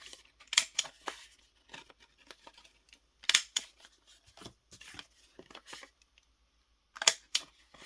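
Quiet, sparse snips and clicks of a corner-rounding punch or scissors trimming paper journal cards, arriving singly and in small clusters against near silence.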